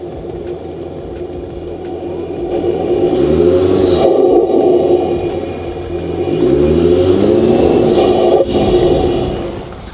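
A Ford Ranger engine fitted with a reversed snorkel intake revs twice, each climb rising into a loud, throaty roar and a whooshing intake note before dropping back to a steady idle, close and with no voices.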